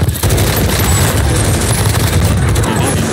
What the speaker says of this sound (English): He's shooting through the building.